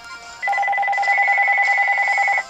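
A phone in the Pokemon X video game rings with a steady electronic trill, a bright pulsing two-tone tone lasting about two seconds, clear and alone.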